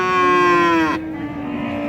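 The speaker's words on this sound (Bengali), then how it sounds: "এই যে একটা জার্সি বিটের আমরা গাভী দেখছি" A Jersey cow at the Raniganj cattle market in Dinajpur lets out a single loud, close moo lasting about a second, then it drops away into quieter market background.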